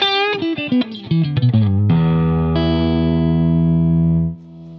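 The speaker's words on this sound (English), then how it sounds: "This is the Kramer Focus, which costs just 130 euros." A cheap Kramer Focus electric guitar is played through heavy distortion. A quick run of picked notes leads into a long, loud sustained chord that rings out and then cuts off, with no talking.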